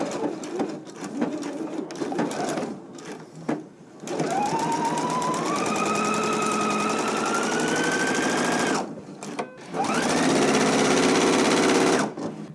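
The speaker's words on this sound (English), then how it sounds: "I'm going to put my needle down right at the marking and begin stitching." A sewing machine stitches the inner leg seam of a pair of pants. It runs in long steady whirring bursts with brief pauses between them, loud and close, with no voice over it.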